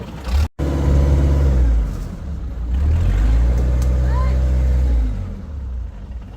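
A ferry boat engine on a crossing from Laem Kruat pier to Koh Sriboya runs loud and close, rising and falling as it revs, with a brief cut near the start and a long steady drone.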